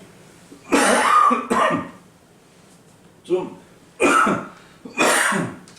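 A pastor coughs and clears his throat several times during a Korean Sunday church sermon. The close, loud bursts come in uneven clusters with short pauses between them, and a brief spoken word is mixed in.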